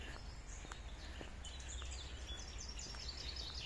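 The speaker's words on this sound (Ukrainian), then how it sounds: "Ось ворона собі скаче співають пташечки." Birds chirp and sing faintly in a dendrological park in Bukovina, scattered high calls over a steady low background rumble, with no talking.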